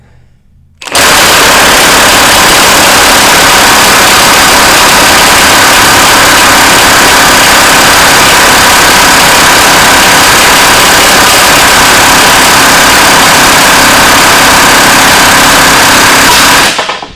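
A battery-powered 1/2-inch impact wrench runs on a distorted nut, producing a loud, unbroken hammering rattle that starts abruptly and holds steady for about sixteen seconds before cutting off.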